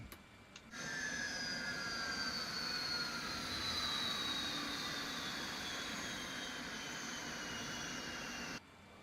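Engine number 1 of an MD-83 jet spooling down at shutdown in Microsoft Flight Simulator 2024, a steady loud turbine roar with a falling whine that holds, then cuts off abruptly near the end.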